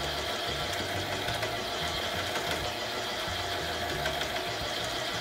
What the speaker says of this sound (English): I keep letting my mixer do it